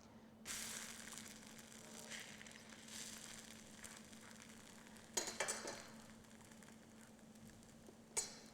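Pancake batter cooking in a pan gives a quiet, steady sizzle, with a few brief scrapes or clinks of cookware near the end and no talking.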